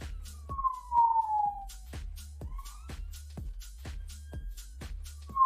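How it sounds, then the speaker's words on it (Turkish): A siren wails and sweeps in pitch, heard intermittently and fairly distant under a steady series of sharp rhythmic thumps and game-like effects during a roadside scene. "ambulans."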